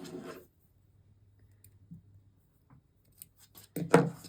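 Scissors snip fabric for a quilt block with Y-seams, a few sharp close crisp cuts at the start and end separated by quiet, with a faint low hum between.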